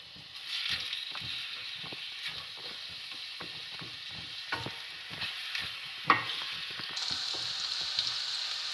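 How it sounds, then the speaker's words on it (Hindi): Onions fry in oil in a pan while a tomato chutney is being cooked, giving a faint, steady sizzle and hiss with scattered soft scrapes and clicks of stirring. No one speaks. "अनियन डाल के इसे फ्राई करेंगे।"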